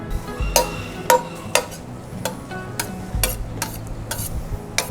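Plenty of garlic frying in oil for spaghetti alle vongole gives a soft steady sizzle, punctuated by sharp clicks and scrapes of a utensil against the pan at irregular intervals.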